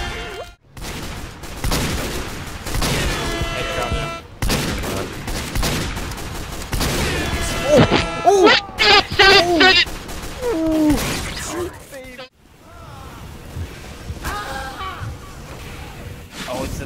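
Sticky jumper grenades go off in a chaotic video game match as rapid pops and blasts, with scattered sharp bangs and ringing effects, while players talk and laugh over the noise throughout.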